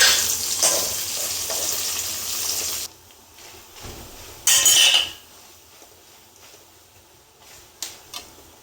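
Mustard seeds, chana dal, peanuts and chillies tempering in hot sesame oil for temple-style tamarind rice: a bright, loud sizzle up close that cuts off abruptly, then a short burst of crackling and quieter clinks.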